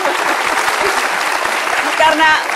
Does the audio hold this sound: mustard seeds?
no